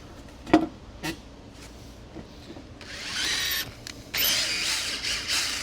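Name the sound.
power drill pre-drilling wood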